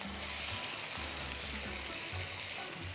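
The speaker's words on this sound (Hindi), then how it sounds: "अब हम डालेंगे 500 ग्राम बोनलेस चिकन। इसे हम अच्छे से मिक्स कर लेंगे।" 500 grams of boneless chicken stir-frying with ginger and garlic in a pan, a steady close sizzle and hiss running without a break, with no voices over it.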